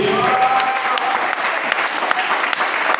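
Church congregation clapping and cheering during a Sunday sermon, a dense, steady wash of applause with scattered sharp claps filling the whole stretch, plus a brief tonal note near the start.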